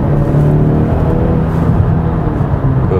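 A 2021 Kia Sorento with a 2.5 turbo gasoline engine accelerating hard, heard from inside as a loud, steady low engine drone and whir that holds for a few seconds.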